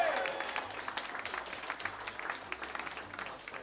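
A live fringe comedy audience at Bedfringe claps in a fairly faint, steady round of applause that tapers slightly toward the end.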